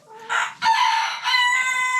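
Farm chickens in frozen winter conditions give a short, drawn-out, crowing-like call in a few close, clear bursts, with no talk.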